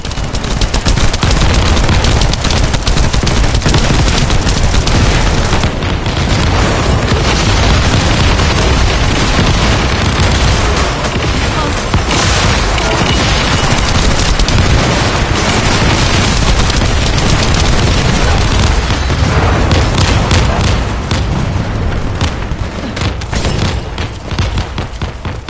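Sustained heavy gunfire and booming explosions from The First Descendant as players shoot down a resupplying Vulgus aircraft, loud dense continuous bursts of automatic fire with blasts layered throughout.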